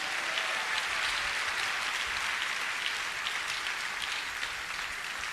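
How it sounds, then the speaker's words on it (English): A church congregation claps together in sustained, dense applause during a Sunday service, steady and even throughout with no break, filling the room from a moderate distance. "Let's give Jesus a clap offering one more time"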